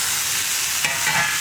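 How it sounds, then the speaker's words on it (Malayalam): Chopped tomatoes tip into a pan of frying onions and spices, bringing a steady close sizzle with a brief stirring scrape partway through. "നമുക്കിതിലേക്ക് മുറിച്ച് വെച്ചിരിക്കുന്ന തക്കാളി ചേർക്കാം"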